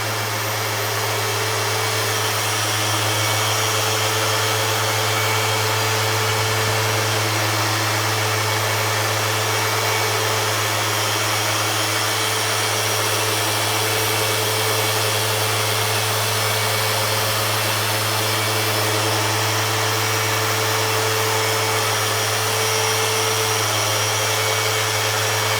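An orbital polisher works over a car's paintwork to remove scratches, a loud, unbroken motor drone with a steady hum that runs the whole stretch without pause.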